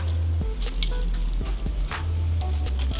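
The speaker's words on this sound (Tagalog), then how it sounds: "Kaya pakita ko susi." Keys for a Yamaha R1 motorcycle jingle and clink as they are handled up close, with bright metallic rattles over a steady low hum, no speech.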